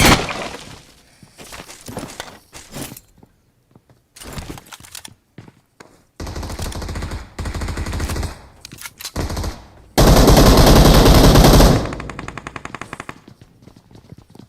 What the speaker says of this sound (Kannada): ಪ್ರತಾಪ್ ಗನ್ಲೆ ಹೊಡಿಯೋ ಪ್ರತಾಪ್